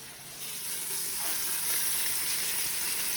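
Garlic hitting a hot pan in a spaghetti and meatballs sauce, a steady bright sizzle that swells slightly and holds, heard alone close up.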